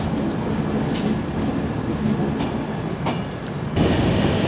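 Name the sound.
Duronto Express train running, heard from inside AC 3-tier coach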